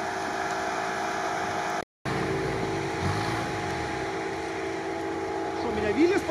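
Willys off-road vehicle engine running steadily while towing a Niva on a snowy winter beach, a continuous loud drone with wind noise and a brief dropout, voices talking faintly over it.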